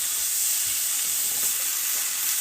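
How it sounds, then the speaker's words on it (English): Tofu steaks fry in a lightly oiled pan, producing a steady, close sizzling hiss that stays constant throughout with no voices. "So we're just frying, cooking this down a little bit."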